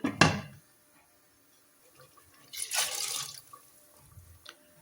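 Tap water gushes in two short bursts into a pot being readied to boil macaroni, with quiet pauses and a few small clinks between.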